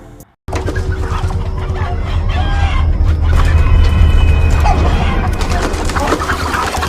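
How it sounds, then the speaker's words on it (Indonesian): Many chickens in a coop cluck and squawk together in a noisy, agitated chorus that continues steadily, fairly close. "Carmen dikagetkan suara gemuruh dari kandang ayam di peternakannya"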